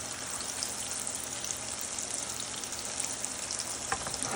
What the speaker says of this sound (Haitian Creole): Mettez dans l'huile qui bien chaud.